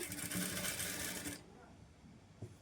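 A sewing machine stitches a quarter-inch seam of lining piping on a blouse. It whirs loudly and steadily for over a second, then stops, leaving a quieter background with one soft knock.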